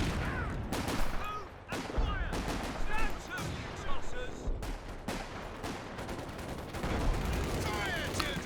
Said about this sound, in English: shock troops and some fair propaganda artillery on top of the machine gun there